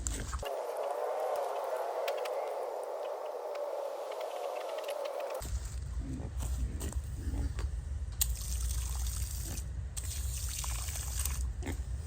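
Water hisses and trickles steadily from a small leak in a repressurized livestock water line on a homestead pig pen, a continuous close rush that shifts to a rougher, lower splashing trickle partway through.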